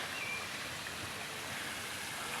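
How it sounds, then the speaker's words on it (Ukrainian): A small artificial waterfall in a park in Lund, Sweden, gives a steady, close, full rush of falling water with no pauses. "З лівої сторони е, водоспад такий невеличкий зроблений"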